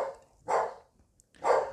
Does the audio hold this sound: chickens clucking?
no